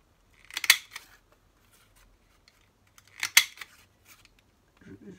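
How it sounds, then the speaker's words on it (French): A hand-operated paper punch cuts snowflake shapes for a Christmas card: two crisp, crunchy clacks a few seconds apart, close up, then a faint rustle at the end. "je vais rajouter quelques petits flocons de neige avec notre perforeuse d'action"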